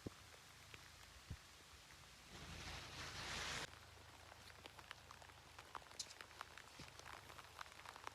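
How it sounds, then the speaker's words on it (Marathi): Heavy monsoon rain in the Konkan countryside, a steady hiss of drops pattering on surfaces with scattered louder drips, swelling briefly into a denser downpour before settling back, no voices. "आणि हे बघा जाम जोराचा पाऊस इलेलो."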